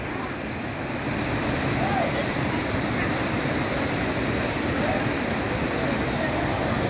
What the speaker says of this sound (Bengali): ভীমকুণ্ড সেই জলপ্রপাত, উড়িষ্যার কেওনঝর এলাকার ভীমকুণ্ড।